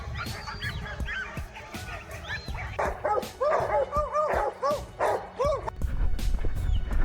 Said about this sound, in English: the dog suddenly barked, sharper, more urgent this time